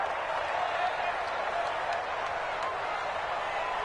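An American football video game stadium crowd roars in a steady, distant wash of cheering and murmur ahead of a big third down, under ongoing commentary.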